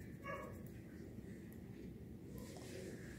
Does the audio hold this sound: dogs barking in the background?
yes